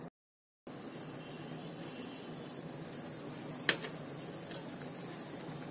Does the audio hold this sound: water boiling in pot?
yes